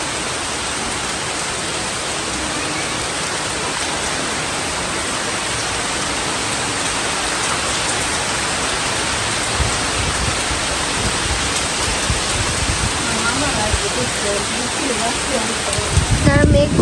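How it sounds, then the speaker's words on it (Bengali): Morning rain falls steadily outdoors as a dense, continuous hiss and patter, close and fairly loud, with no pauses throughout. "আবার শুরু হয়ে গেছে বৃষ্টি সকালবেলায়।"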